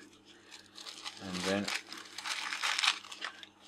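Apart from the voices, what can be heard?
handling a sheet of paper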